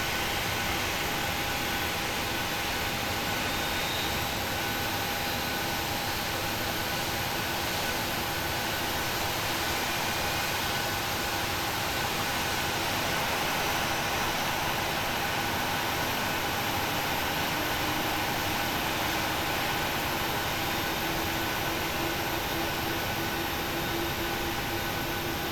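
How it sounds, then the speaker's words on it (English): Jet engine of a PMDG Boeing 737-800 in the FSX flight simulator spooling up during engine start, a steady broadband roar with a constant whine, even and unchanging throughout, no voices. "Look outside, it's spooling up very nicely."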